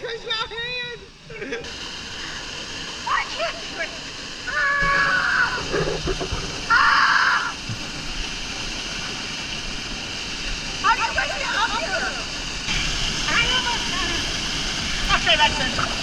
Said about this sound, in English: So creepy under the waterfall.